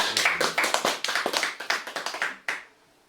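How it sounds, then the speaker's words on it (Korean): A small audience at a Korean literature festival lecture claps briefly, a few seconds of distinct close hand claps in an uneven rhythm before stopping abruptly into quiet. "박수 한번"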